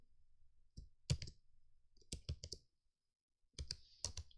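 Keystrokes on a computer keyboard while entering a trade into a trading journal, in short irregular bursts of clicks separated by pauses, close and fairly quiet.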